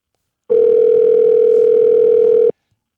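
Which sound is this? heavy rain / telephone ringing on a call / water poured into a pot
telephone ringing on a call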